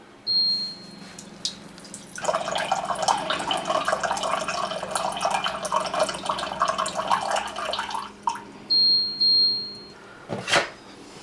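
Water pours steadily from a Cove Pure reverse osmosis purifier into a glass, a continuous close splashing stream lasting several seconds with soft clicks and a short tap before and after.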